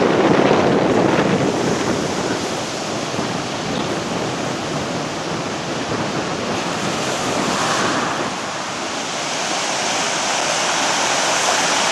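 Rough sea breaks along a Cypriot shore in a continuous, loud roar of surf and wind, unbroken for the whole stretch, with gusts buffeting the microphone and no voices.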